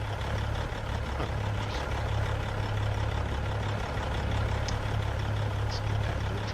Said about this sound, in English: We gotta start the engine.